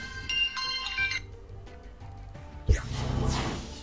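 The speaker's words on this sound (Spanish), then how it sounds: "Eso ha sido el móvil." A mobile phone ringtone goes off during an online Pokémon card game session: a short burst of bright, repeating electronic tones, followed a moment later by a louder rushing swoosh.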